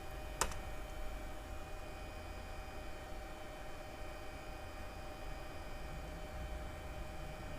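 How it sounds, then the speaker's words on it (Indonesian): A single computer keyboard Enter key press during a Debian 10 Linux install in VMware Workstation, one sharp click near the start, followed by steady low electrical hum with no talking. "kemudian kita klik enter."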